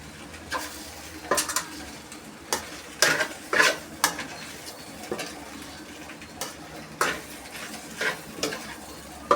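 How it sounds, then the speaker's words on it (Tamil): Fried rice stirred and tossed in a pan for a lunch box, with intermittent scraping and clinking strokes of a utensil against the metal at an uneven rhythm over a soft sizzle, close and moderately quiet. "இப்போது லாஸ்ட்டில் ஃப்ரைட் ரைஸ் மிக்சர் மட்டும் மிக்ஸ் பண்ணிக்கணும்."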